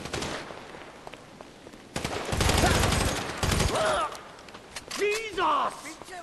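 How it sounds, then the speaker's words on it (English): Gunfire in GTA V during a chaotic shootout between a fountain and a reflecting pool, with dense bursts of automatic shots, a loud sustained volley mid-clip and a voice shouting over the action. "I don't know if they're shooting at each other or if they're all focusing on us."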